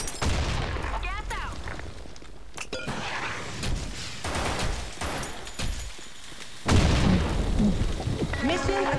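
Gunfire and explosive booms in a competitive match of the shooter game Blackshot, irregular bursts of shots and heavy thumps with a louder blast near the end, mixed with voices talking.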